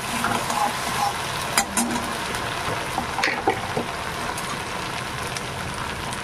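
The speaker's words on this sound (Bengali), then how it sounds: "আর আদা রসুনটা ভালো করে ভেজে নেব।" Ginger and garlic fry in a pan, giving a soft, steady sizzle with a few light stirring clicks and scrapes, close and unaccompanied by speech.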